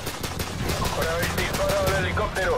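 Rapid bursts of M9 pistol gunfire crack in quick succession at a helicopter in Call of Duty 4: Modern Warfare over loud, busy background sound, with a voice shouting partway through.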